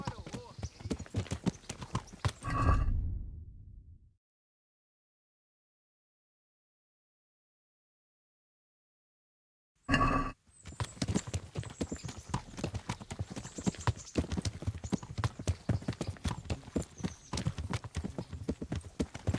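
Horse hooves clip-clop in a steady trotting rhythm in the medieval game Kingdom Come: Deliverance, loud and close, stopping abruptly into a long silence before resuming with dense background noise and talk.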